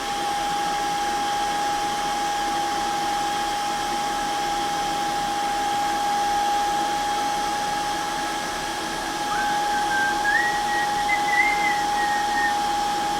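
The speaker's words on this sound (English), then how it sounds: "So we might just do that with the old hairdryer." A hairdryer blows steadily and loudly for the whole stretch with a constant whooshing roar and a thin whining tone, and a faint whistle rises and wavers near the end.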